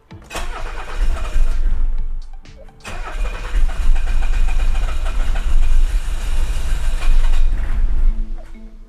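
Maserati engine cranking repeatedly and trying to start, a loud close starter churn with a rough engine catching, pausing briefly after about two seconds before cranking again for a long sustained attempt.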